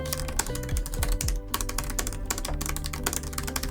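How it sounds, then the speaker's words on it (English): Typing on a typecase keyboard case for iPad: rapid, uneven soft key clicks in a continuous close-up stream, slightly spongy in character, with no voices. "we can try a little typing test here with the keyboard"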